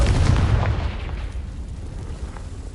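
A Confringo fire spell exploding in Hogwarts Legacy, heard as a single heavy, low boom that rolls into a long, rumbling decay.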